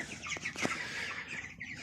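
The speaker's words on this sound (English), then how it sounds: "these are commercial meat chickens" Commercial meat chickens in a brooder setup clucking and chirping, several soft overlapping calls in quick succession, fairly close but quiet, with no talking.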